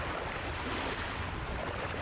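Dense, steady rush of ocean waves in an ocean survival video game, loud and continuous with wind-like noise, no voices.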